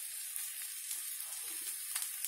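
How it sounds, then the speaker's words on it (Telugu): Ridge gourd peels with salt frying in a pan over medium heat, giving a soft, steady sizzle, faint and close, with no voices. "మనం కొంచెం మీడియంలో పెట్టి వేయించుకోవచ్చు"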